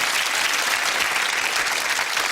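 A game-show studio audience claps in a sustained, evenly dense round of applause, loud and unbroken throughout, with no talk on top.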